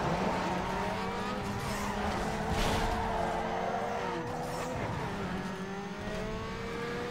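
Mazda RX-7 in Need for Speed Underground 2 under hard driving, a continuous engine whine with shifting revs, tire squeal and a few clunks, steady and close throughout.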